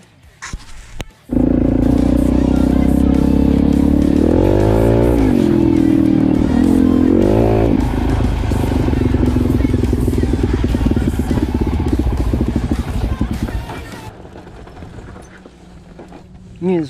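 A Suzuki DRZ400E dirt bike rides single track, its engine roaring loud and close after a short quiet start and rising and falling in pitch through gear changes before easing to a lower drone near the end.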